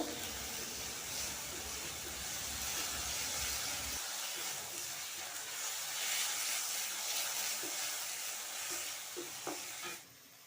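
Garlic paste and turmeric frying in a pan, with steady loud sizzling and the scrape of stirring that continues throughout before easing slightly near the end.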